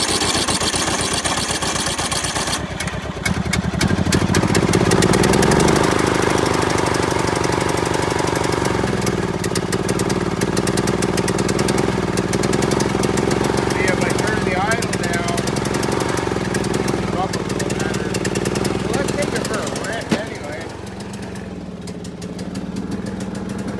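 A John Deere L100 lawn tractor engine cranks, then struggles to run with a rough, rapid knocking rattle for over twenty seconds, loud and close, while people talk over it.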